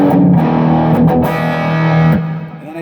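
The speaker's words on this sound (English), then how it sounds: "you get that really cool sounding gain." Electric guitar played through a Fender Machete 50-watt head with boosted gain, sounding as loud distorted chords with a few sharp pick attacks, ringing then trailing off, alone.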